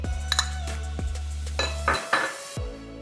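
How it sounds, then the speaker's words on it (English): Butter and sugar dropped into a mixing bowl for a lemon cake, with a few clinks and knocks of utensils against the bowl, close by and without talking. "So we're gonna start by adding our butter and sugar into the bowl."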